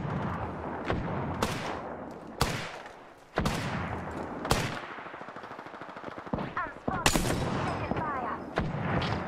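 Gunfire in the battle royale game Apex Legends, sharp close shots and rapid bursts spread irregularly across the clip, with quieter firing and scattered effects between, over occasional voice chat.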